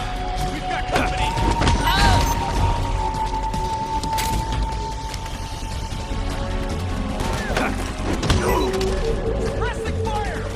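Suppressing gunfire crackles in the stealth-action game Metal Gear Solid 4 during a raid on mansion grounds. Scattered sharp shots and impacts sound over a noisy battle backdrop with a sustained tone, and voices call out amid the firing.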